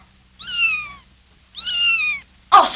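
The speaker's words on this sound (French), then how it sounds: "C'est le chat qui miaule." A cat gives two clear, drawn-out meows about a second apart, close and distinct against a quiet background, followed by a brief noisy burst at the end.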